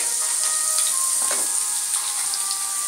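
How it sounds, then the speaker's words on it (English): Chopped onions and ginger garlic paste sizzling in melted fat in a pan over medium flame, a steady close frying hiss with faint crackles and occasional stirring sounds. "Fry for 2 to 3 minutes till it becomes soft."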